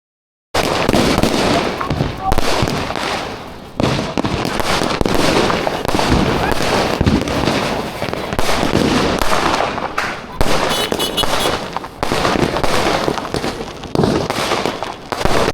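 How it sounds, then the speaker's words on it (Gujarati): Diwali firecrackers and fireworks burst continuously outdoors, loud crackling and popping bangs overlapping for the whole stretch, with voices faintly mixed in. "પછી આપણે ફટાકડામાં ફૂલ બાકાજીકી બોલાવી દીધી છે."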